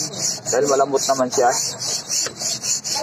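A hand file rasps back and forth over a soft replacement burner part for a smokeless BBQ griller, with repeated close scraping strokes running throughout and a person speaking over the first half.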